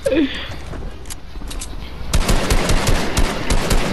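Fortnite gunfire crackles in quick rapid bursts, sparse at first and then a dense burst of shots, with a player's voice heard around it.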